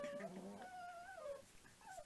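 Puppies whimpering softly, a few thin rising and falling whines in quick succession, close by and faint, with no speech.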